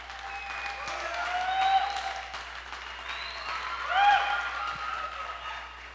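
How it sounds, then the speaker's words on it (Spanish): Congregation applauding during an evangelical church service, a steady wash of clapping that swells twice, with faint voices and tonal sounds mixed in over the whole stretch. "al menos que se escuche ese aplauso"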